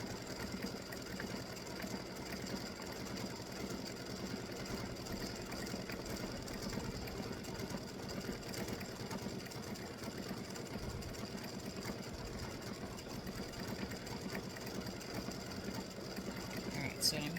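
Embroidery machine stitching out Halloween tic-tac-toe game pieces, with a continuous fast needle chatter and motor hum that stays at an even, moderate level throughout.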